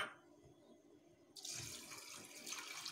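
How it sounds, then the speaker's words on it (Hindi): Water from a tap runs steadily into a pressure cooker holding soaked black chickpeas, a faint trickle first, then a louder, fuller stream filling the pot, with no talking. "1/2 ग्लास से थोड़ा ज़्यादा पानी डालिए।"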